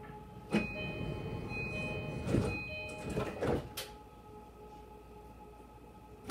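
JR Kyushu Kashii Line train doors slide shut with a few sharp thuds and clunks over a steady hum of the carriage, followed by quiet rumbling.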